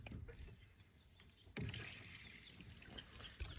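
Water running through a homestead chicken watering system, a steady broadband rush and trickle with a sharp bump partway through, fairly close and alone.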